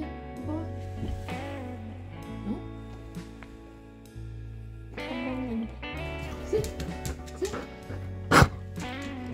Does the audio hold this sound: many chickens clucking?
no